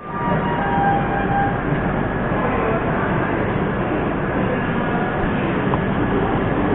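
Suhaildev Superfast Express train pulling out of Moradabad railway station, a steady loud rumble of rolling wheels and carriage noise heard from on board, continuous with no voices.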